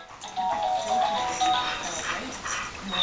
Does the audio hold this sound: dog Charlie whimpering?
yes